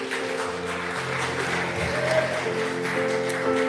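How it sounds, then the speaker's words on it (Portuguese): A church congregation claps during a family worship service, a steady wash of applause over sustained organ or keyboard tones. "Pode aplaudir ao Senhor mais uma vez?"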